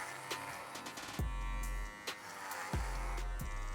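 An electric hair clipper cutting through long hair during a fade haircut, a steady close buzz that drops in pitch and strains as it bites into the hair several times, with no voices.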